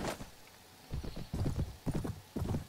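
Horse hooves clip-clop in the Mount & Blade: Warband Viking Conquest game, a fast rhythmic run of close, clear steps in bursts, with a short whinny-like sound near the start.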